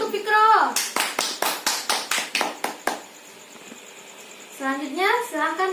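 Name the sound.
children clapping in a classroom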